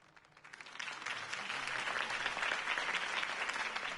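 Applause from a large crowd in a video game swells up quickly and holds steady, a dense wash of clapping heard from a slight distance.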